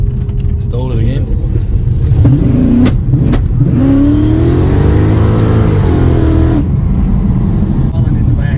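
Car engine in a vehicle fitted with new T6 suspension restarts after stalling and revs, rising and falling in pitch close by, with people talking over it inside the cab.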